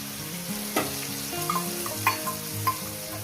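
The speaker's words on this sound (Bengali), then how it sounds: "এখন আমি আরও দু মিনিট ভাজবো" Spices fry for a fish curry in a pan, giving a steady close sizzle with a few sharp pops and light stirring scrapes over roughly three seconds and no voices.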